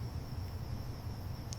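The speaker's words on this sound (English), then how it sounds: "So we hear the crickets in the background." Crickets chirp at night in an AI-generated advertisement, a steady, thin high trill running continuously over a low background hum.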